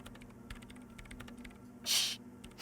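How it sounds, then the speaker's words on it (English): Keystrokes tap in a steady irregular patter on a computer keyboard in the Disco Elysium game, fairly quiet over a low electrical hum, with a brief louder hiss near the end. "She's behind the keyboard now, typing in some numbers that only she understands."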